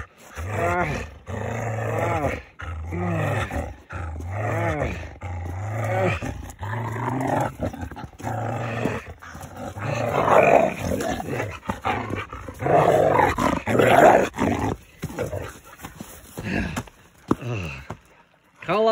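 A dog growls and snarls continuously in deep, rumbling bursts, loud and close, with barking-like outbursts and no clear talk.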